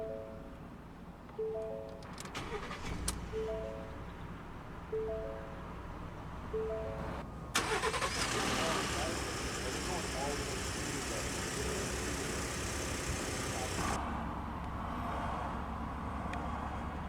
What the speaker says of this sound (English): now let's go ahead and start the engine.